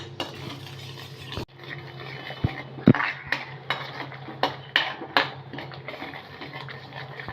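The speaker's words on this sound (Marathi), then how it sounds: "आता हे पण आपण दही मसाल्यामध्ये दोन तीन मिनटं परतून घेणार आहोत" Masala mixed with curd for a green bean bhaji is stir-fried in a pan: a spoon clinks and scrapes against the metal in irregular bursts over a faint background hum, with no talking.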